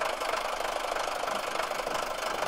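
A tractor's engine runs steadily nearby as it pulls forward, giving a continuous knocking, rattling drone with no break.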